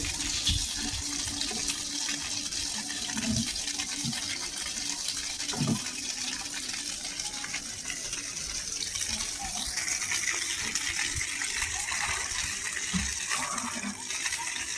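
Water gushing steadily from a water softener being flushed, a continuous near rush with faint background sounds and no talk.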